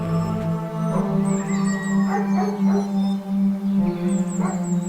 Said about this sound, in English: we hear the sound of distant barking, gradually fading